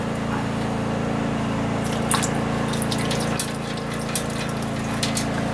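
Nearly a liter of old fuel drains out of an Empire engine, pouring in a steady liquid gush with a constant low hum and scattered drips and splashes.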